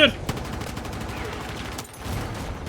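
Rapid automatic gunfire from a vehicle in the video game Battlefield 6, rattling in dense bursts throughout while someone talks over it.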